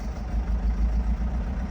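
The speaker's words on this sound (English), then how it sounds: "There you go, revving higher than normal." A Mercedes Sprinter diesel van engine, after injector replacement, runs on its own at raised revs with a steady low droning hum and slight surging, close by, with no voices.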